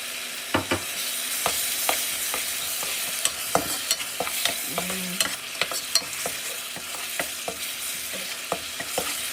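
Ginger garlic paste fries in hot oil in a pan, with a steady sizzle and repeated scraping clicks of a spoon stirring, no voices.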